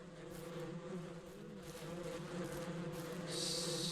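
A swarm of bees buzzes steadily in the Western ranching game Ranch Simulator Southwest, a continuous close droning hum that swells slightly toward the end, with no talking.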